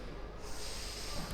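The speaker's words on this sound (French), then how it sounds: "J'inspire, j'expire." Heavy, forceful breathing in and out during a burpee lunge workout, a steady rushing breath close to the microphone with a sharper snort-like exhale near the end.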